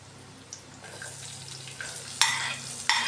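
Potatoes and onions fry in a pan with a low, steady sizzle that builds gradually, then two sharp, loud bursts of scraping as the spatula stirs near the end, with no voices.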